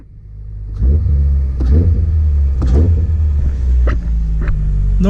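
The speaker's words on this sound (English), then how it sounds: "When I rev the engine, it's a little sluggish." A Toyota Celica engine rumbles loudly up close, revving in slow, labored surges that rise and fall without much crispness; the sluggish revving is unusual for it.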